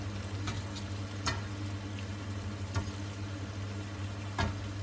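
Spaghetti with Cetara anchovies sizzle steadily in a frying pan, a constant hiss and crackle with a low hum beneath and a few sharp clinks of utensils being stirred through.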